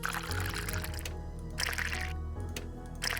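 Liquid being dumped out of a container in the Nancy Drew game The Deadly Device, heard as a loud, bright pouring splash that comes in several short bursts over a low steady background tone.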